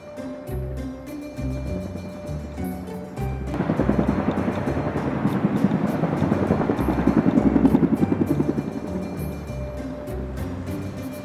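A helicopter's rhythmic rotor chop swells over steady background music, peaking mid-clip before easing back.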